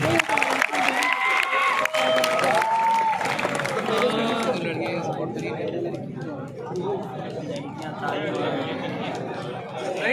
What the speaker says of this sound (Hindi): जोरदार तालियों के साथ इस्तकबाल कर लीजिए